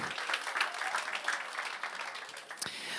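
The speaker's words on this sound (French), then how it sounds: "On peut l'applaudir" A church congregation claps during an online Sunday service, a moderate patter of many hands with uneven bursts, fairly close and lasting the whole few seconds.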